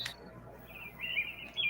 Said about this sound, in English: You can have birds in the background of your streams.